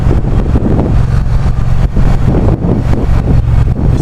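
Triumph Bonneville Street Cup 900 motorcycle engine running steadily and loud, a deep throbbing rumble with continuous wind buffeting over it, no one speaking.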